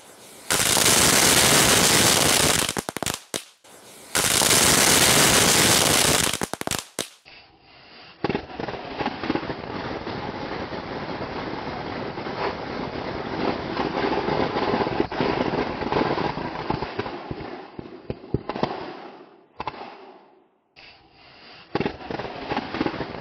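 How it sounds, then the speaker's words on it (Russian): Bundles of small firecrackers, ten strings of fifty each, are set off beside a computer monitor. Two deafening, dense crackling bursts fill the first seconds, then a quieter, uneven rattle of pops continues to the end. "Тут в каждом свертке 10 лент по 50 петард."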